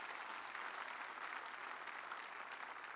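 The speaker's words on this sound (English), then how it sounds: "Let us put our hands together and clap for the Lord." A church congregation claps together for the Lord during a service, a continuous, steady patter of many hands at moderate distance, filling the room evenly with a faint low hum beneath.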